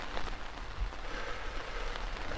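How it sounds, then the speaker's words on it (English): Steady rain falls in open moorland country around a hiker's camp near Cape Wrath, a dense, even hiss of drops on surfaces with no pauses and no talk. "it's been raining since about 3 o'clock this afternoon."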